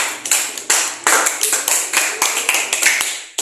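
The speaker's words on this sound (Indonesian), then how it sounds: "tepuk tangan dulu buat Nernya" A small class claps for a student in a physics lesson, a sparse group producing loose, separate sharp claps in uneven bursts over a few seconds, close and fairly loud.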